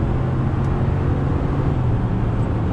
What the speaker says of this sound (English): That Hemi V8